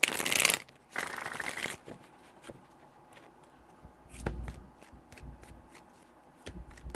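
Tarot cards shuffled by hand: two quick riffling bursts up front, then a scattering of quieter taps and card clicks, close and alone.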